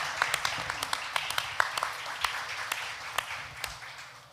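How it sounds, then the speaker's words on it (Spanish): Applause from an audience at a church event, scattered distinct claps standing out over a steady crowd background. "Aplauso, aplauso, aplauso."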